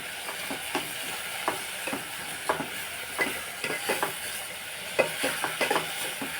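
A tempering for buttermilk rasam fries and sizzles steadily in a pan, a dense continuous crackle with soft stirring scrapes at intervals, close and fairly quiet with no talking.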